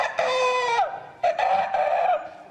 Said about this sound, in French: monsieur le coq répond bonjour